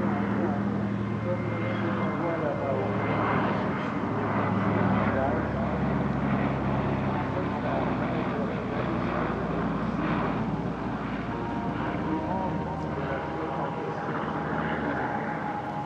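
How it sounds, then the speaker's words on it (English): A PT-17 Stearman biplane and a PBY-5A Catalina flying boat fly mock training passes at a vintage warbird airshow, giving a steady, droning engine roar that swells and holds for the whole stretch. "with a PT-17 Stearman and Plain Sailing's PBY-5A Catalina performing mock training flights"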